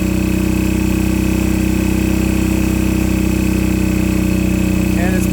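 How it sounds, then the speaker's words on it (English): Firman WHO3242 generator engine running steadily and loud during a natural gas conversion, holding a constant drone with a slight dip near the end as it bogs down. "This is just to set this power block and then screw this in until it starts to bog down."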